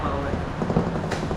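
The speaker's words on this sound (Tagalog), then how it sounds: "lumakas yung ulan lalo" Heavy rain pours during a trip home from a burger outing, a thick continuous wash of drops with small spatters and a brief sharper splash, loud and close.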